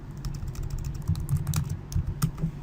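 Fingers type quickly on a computer keyboard at a desk, a close, continuous patter of light key clicks with a few louder strokes and a faint hum beneath, with no talking.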